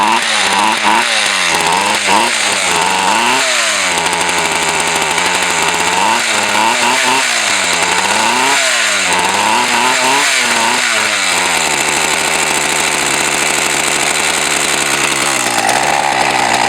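A Husqvarna 240 chainsaw runs after a choke start, its two-stroke engine loud and close, revving up and down in uneven bursts before settling into a steadier drone.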